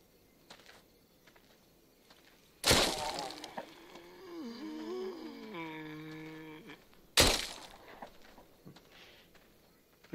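Two sharp, loud glass-breaking cracks about four and a half seconds apart in the zombie shooter game Arizona Sunshine, with a wavering, groan-like tonal sound between them over quiet background.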